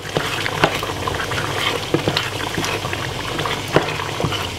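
Jamaican beef curry with vegetables simmering in a pot, a close bubbling boil with irregular pops and gurgles over a steady liquid hiss.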